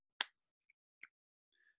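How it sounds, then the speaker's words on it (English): Sharp finger snaps at a children's Sunday school lesson: one strong crack, a softer tick, a second crisp snap, then a faint smeared sound, all spaced apart in near silence. "So we'll go clap, clap, snap, snap"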